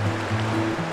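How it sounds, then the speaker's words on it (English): Ice blue river flowing past a riverfront campsite along the Icefields Parkway in Canada, a steady close rush of water with a low hum running underneath. "So this river is like ice blue."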